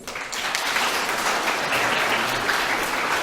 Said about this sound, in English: Give her a clap, please.